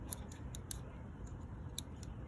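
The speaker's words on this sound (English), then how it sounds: "when you stick the tool in there, you work it up to depress it, you can hear it click sometimes" A tool works the lever on a Dodge Ram TIPM wire pigtail connector, making a few sharp, faint, close clicks at irregular intervals against a quiet background.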